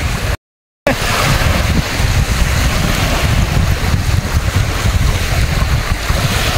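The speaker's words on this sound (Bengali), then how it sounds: "দেখুন কি সুন্দর ঢেউ পানির" Arabian Sea waves breaking under strong wind, a loud surging wash with heavy wind buffeting the microphone, continuous after a brief silent gap at the start, no voices.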